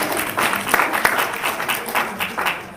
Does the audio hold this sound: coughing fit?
no